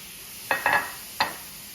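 Raw steaks hitting the hot plates of a George Foreman electric indoor grill, giving three short sizzling bursts, the first two close together and a third after a pause, each fading quickly in a quiet room.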